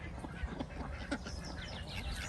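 Ducks quacking in a pen at a poultry breeding farm, Saxony and Toulouse breeds, a few soft, scattered quacks over quiet background noise with no talk.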